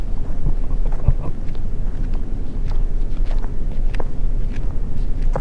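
A man walks across hard, dried Lapindo mudflat and stiff grass by the lake, his footsteps soft and irregular under steady wind noise buffeting the microphone, with no talking.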